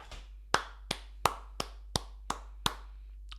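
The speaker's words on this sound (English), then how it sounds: "And I'm clapping because the first one," One person claps hands eight times in a steady, moderately spaced rhythm. The claps are close and crisp against a low background hum.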